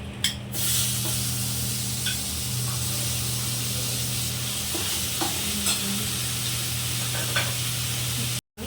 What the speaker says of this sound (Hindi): सबसे पहले प्याज देते हैं